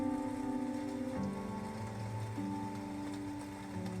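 The rainy day nature soundscape plays inside a 2023 Hyundai i20N: a steady patter of rain on a surface with soft tonal hum layered beneath, even and moderately quiet throughout, with no talking.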